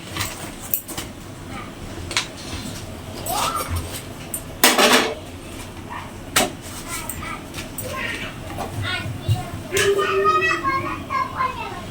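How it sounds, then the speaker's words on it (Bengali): Roti being made in a home kitchen, with scattered clinks and clatters of pans and utensils, one loud bang midway, under a voice and a child's speech. "রুটি বানানো চলছে দেখো রুটি কীভাবে ফুলছে"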